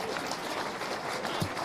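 Spectators applaud at an SK Sturm Graz versus Bačka Topola friendly football match, a steady wash of clapping from the crowd across the stadium, with commentary talk over it.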